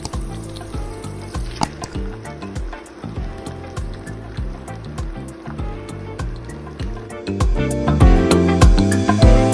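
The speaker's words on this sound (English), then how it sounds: "now we're going to start by frying our shell." A flour tortilla shell fries in hot oil for a homemade Mexican pizza, giving a steady close sizzle with scattered pops and crackles that grow louder toward the end, over rhythmic background music.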